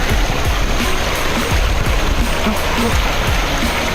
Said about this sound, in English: There's a river crossing.